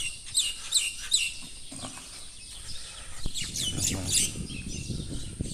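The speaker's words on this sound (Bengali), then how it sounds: "পাখির কলতান" Birds chirp and twitter at dawn after the Fajr prayer, outside the district registry office in Mymensingh, Bangladesh, with bright high calls in bursts over a low rumble of early street activity.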